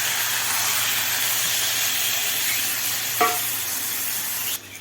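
Vegetables with tomato and onion frying with spices for katla fish curry, a steady close sizzle with one brief clank of a utensil near the end.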